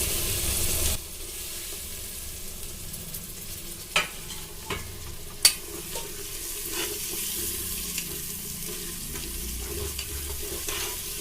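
About 200 grams of chopped tomatoes fry with ginger-garlic in a pot for mutton biryani, a soft, steady sizzle punctuated by occasional spoon knocks and scrapes while being stirred.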